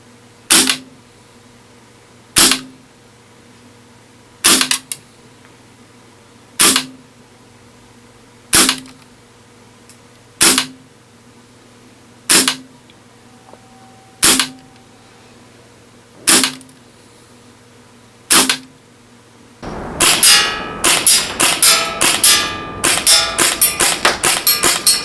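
A PP-2000 gas blowback airsoft SMG fires during chrono and accuracy testing: sharp single shots spaced about two seconds apart, then a rapid full-auto burst of loud cracks.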